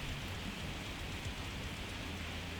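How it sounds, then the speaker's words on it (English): Steady pouring rain in the video game Cataclysm: DDA, a constant hiss of broadband noise that holds evenly throughout, faint and continuous with no voices over it. "It is now like pouring rain."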